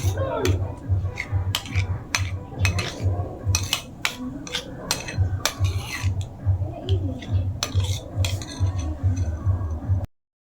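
A utensil clinks against a pan in a quick repeated rhythm while bangus sisig ingredients are stirred and mixed, close and fairly steady.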